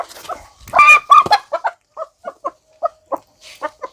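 A hen with a white and grey crested head clucks in a series of short, separate calls close by, starting with a louder squawking burst, then softer, evenly spaced clucks.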